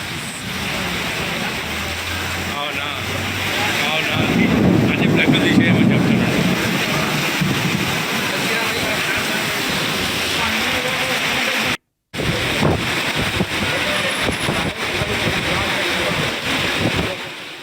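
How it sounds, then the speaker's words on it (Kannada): Heavy rain with wind falls during the year's first downpour in Ballari. A loud, steady broadband roar with gusts buffeting the microphone, briefly cutting out once before the constant pouring resumes. "ಗುಡುಗು ಸಿಡಿಲು ಜೊತೆಗೆ ಜೋರು ಮಳೆ ಬರ್ತಾ ಇತ್ತು"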